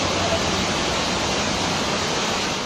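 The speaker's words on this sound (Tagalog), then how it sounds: "kundi kulay putik na baha ang rumagasa sa hagdan ng elementary school na ito sa Jose Panganiban, Camarines Norte" Muddy floodwater pours down the stairs of an elementary school in Jose Panganiban, Camarines Norte, during a typhoon, giving a loud, unbroken rushing roar like a waterfall.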